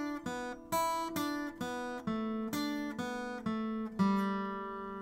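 Guitar plays a four-note pentatonic scale pattern, about eleven clean plucked notes in an even rhythm, each ringing and decaying before the next, stepping down the scale with no voice over it.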